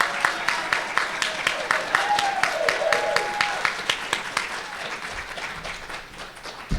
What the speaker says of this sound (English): you guys, please clap when he comes in